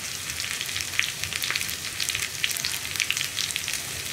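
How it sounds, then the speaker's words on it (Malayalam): Onions fry in hot oil in a pan while being stirred, giving a steady close sizzle with crackling pops throughout and no talking. "ഉള്ളി ഒന്ന് ലൈറ്റായിട്ട് ബ്രൗൺ ഷെയ്ഡായി വരുന്നത് വരെ നമ്മളൊന്ന് ഇളക്കി കൊടുക്കുക"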